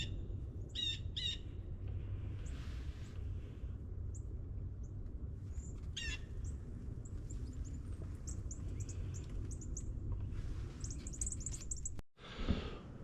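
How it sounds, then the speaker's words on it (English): Many birds chirp and call around a deer hunting blind where they squabble over spread corn, sharp bursts of tweets near and far over a steady low outdoor rumble, with a short clunk near the end. "There was just a million birds fighting over the corn that I had out there."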